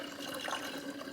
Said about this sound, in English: I'm gonna pour some water in there because I know we lost a little